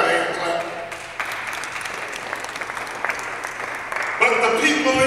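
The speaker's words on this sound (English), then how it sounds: "You can give God a clap." Sustained audience clapping at a political speech, a dense steady wash of applause that swells louder near the end, with a voice faintly underneath.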